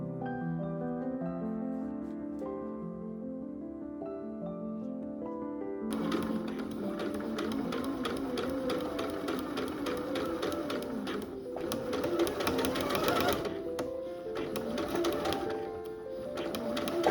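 A sewing machine stitches lining to the yoke and midriff panels of a vintage Vogue V9076 dress. After a stretch of soft melodic music, the fast, steady mechanical whirring of the stitching runs continuously under the music.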